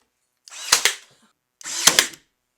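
Nail gun driving 1.5-inch finishing nails into a wooden picture frame: two separate, loud, close bursts about a second apart, each with sharp hits and a hissing tail, then silence.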